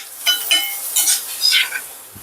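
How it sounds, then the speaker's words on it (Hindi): Dry coconut roasting in a pan for a Maharashtrian gravy, heard as soft, close stirring scrapes and a light sizzle in short bursts, with no talking. "कोकोनट को भी हमें भुनना है"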